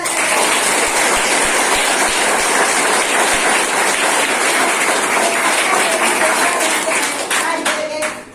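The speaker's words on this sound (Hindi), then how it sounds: "हम लोग का लागो सर के लिए जोरदार ताली" Loud, dense clapping from a crowd at a direct-selling achievers' event, a steady roar of many hands held at full strength for about eight seconds before it begins to thin out at the end.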